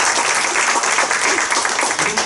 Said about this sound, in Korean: 이 후보님들에게 다시 한 번만 좀 박수 좀 부탁드리겠습니다